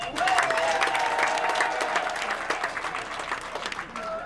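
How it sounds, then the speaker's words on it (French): Loud, dense applause from an outdoor crowd at a Women's Day launch celebration in Bwanebwa, continuous clapping with cheering voices and a whistling tone woven through. "Maintenant, applaudissez pour les populations de Bois-Nébois."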